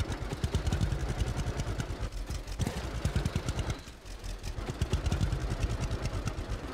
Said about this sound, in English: Let's run the tractor on the part that has been plowed now,